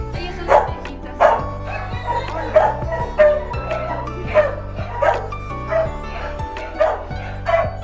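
Several dogs at an animal shelter bark, yip and whimper in repeated bursts, loud and close, with a steady low hum underneath throughout.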